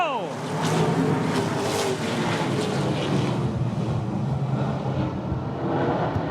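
Field of ASA Super Late Model stock cars roaring off at the green flag for a 50-lap Minnesota Challenge Series race at I-94 Raceway, a dense, loud engine drone with rising whine that holds steady throughout.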